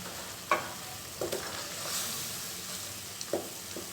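Masala frying in a pan while tomatoes are mashed with a spoon: a soft hiss broken by a few scattered scrapes and taps, fairly faint and close, with no talk.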